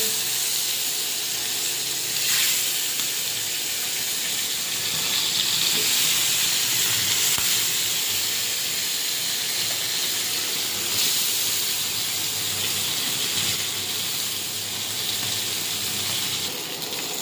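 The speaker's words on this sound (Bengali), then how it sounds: "কড়াইতে মাছ ছেড়ে দিই।" Fish fry in hot oil with a continuous, even hiss and sizzle that holds steady throughout, close and fairly loud, with no voices.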